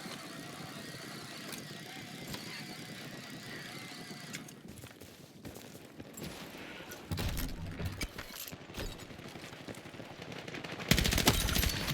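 Automatic gunfire in a multiplayer shooter video game, sustained bursts of rapid shots with engine rumble beneath, growing louder and denser toward the end.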